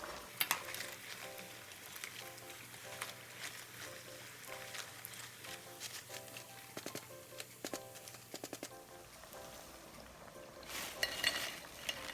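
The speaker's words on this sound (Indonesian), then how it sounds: "Digoreng dengan api sedang ke besar sampai warnanya kecoklatan dan matang." Tempeh frying in oil over medium-high heat, a continuous faint crackle and hiss with scattered sharper pops and a few clinking strokes, no voices.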